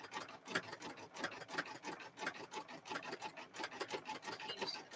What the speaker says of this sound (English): So I'm gonna sew, as you're watching that, we're gonna sew over here too.